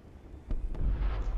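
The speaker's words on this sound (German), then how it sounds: "Die Explosion, die habe ich vorher nicht gesehen." A deep explosion in the video game Fortnite, a low rumbling boom that swells after a couple of sharp cracks and hangs on heavily.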